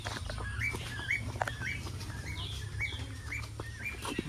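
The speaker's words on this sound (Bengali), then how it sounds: "এখানে দেখতে পেলাম আমরা ককটেল পাখি" Cockatiels and other cage birds chirp in repeated short calls at an aviary in an eco park, the tweets scattered across the clip over a steady low background hum.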